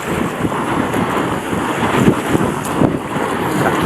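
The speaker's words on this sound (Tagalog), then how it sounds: "Oh, mayroong malaking alon guys, oh." Big sea waves and wind roar around a fishing boat at sea, a steady loud wash of water and buffeting wind noise on the microphone with no letup.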